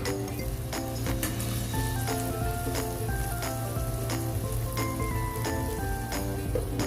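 Beef sizzling in about three tablespoons of olive oil while being stirred, a loud, steady frying hiss throughout with intermittent clinks and scrapes of the utensil against the pan.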